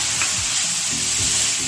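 Spice paste frying loudly in a pan after a little water is added, a dense steady sizzling hiss with a few low stirring scrapes underneath, no speech.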